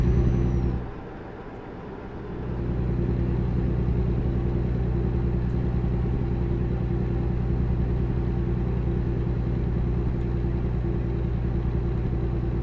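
A big truck's engine rumbles steadily in American Truck Simulator, a low continuous drone. It dips briefly near the start, then holds loud and even to the end with no talk.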